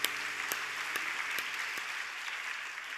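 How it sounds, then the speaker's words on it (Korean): A church congregation claps after a prayer at a Friday late-night prayer meeting during a middle-school department presentation, a dense patter of applause with a few sharp louder claps that slowly thins out. "박수해 주세요."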